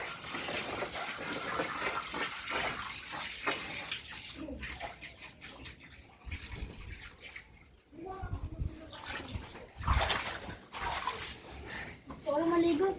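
Water gushes and splashes into a swimming pool set up at a home play area, a continuous pouring rush that rises and falls while people talk over it.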